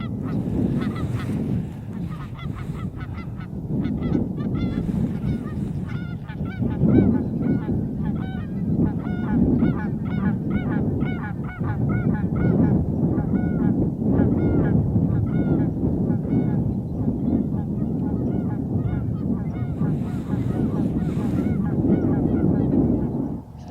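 A flock of geese honking continuously at Tawayik Lake, Elk Island National Park, Alberta, many overlapping calls at close to moderate distance, with a faint rush of wind in the background.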